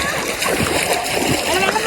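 Water splashes and churns close by in a shallow stream or pool, in brief repeated splatters, while voices talk loudly over it.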